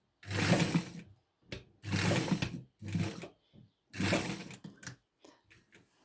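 An electric sewing machine stitches a washable cloth period pad in several loud whirring bursts of about a second each, separated by silences and a few short clicks.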